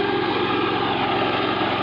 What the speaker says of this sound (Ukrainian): Ці кущі для цієї косарки це рівно, що трава.